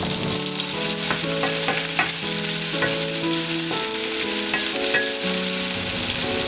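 Onions sizzle in hot oil with Indian spices and dried chilies, a steady broadband hiss with a few stirring clicks, running continuously under melodic background music.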